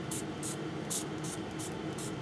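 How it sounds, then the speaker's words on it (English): Sunset Pink ink spray misted onto paper flowers for a mini album, several short, quiet hissing bursts in a row, alone with no talk. "we'll give them a quick spray here with a little bit of the Sunset"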